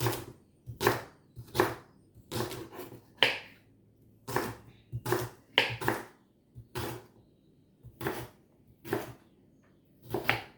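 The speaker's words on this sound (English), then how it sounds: "just chopping up our strawberries and rhubarb" Knife chopping strawberries and rhubarb on a cutting board in irregular, close sharp thuds, sometimes in quick pairs, with quiet gaps between cuts.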